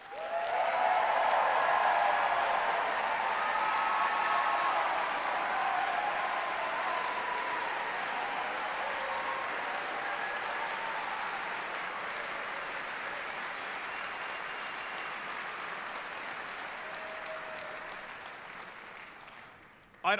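Graduation ceremony audience applauds school staff at a 2024 high school commencement, a long sustained wash of clapping from a large crowd, loudest at the start and gradually fading over twenty seconds.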